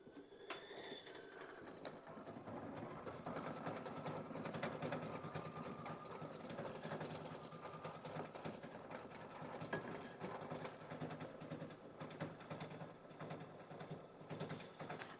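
Kimberbell quilting embroidery machine stitching a small wheel insert, a close, rapid, steady mechanical needle chatter with whirring motor tones, running continuously with no talk.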